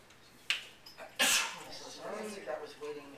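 A single sharp sneeze bursts out at a sociological association meeting, preceded by a small catch of breath and followed by a voice speaking in the room.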